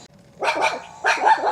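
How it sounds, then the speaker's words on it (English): A little dog barks in two quick bursts, each a pair of sharp, close yaps with a short gap between them, fairly loud against a quiet background. "Little doggy here. I love little doggies."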